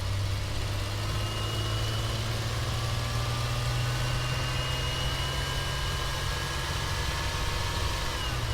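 An old van's engine running while driving, a steady low droning hum with a constant tonal whine, continuous and unchanging throughout with no talk.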